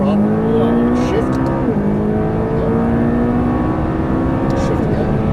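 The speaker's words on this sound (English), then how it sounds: "Accelerate out, full throttle." A McLaren MP4-12C on a racetrack at full throttle, its engine roaring loud and steady with rising pitch sweeps as it accelerates through the gears, no voices over it.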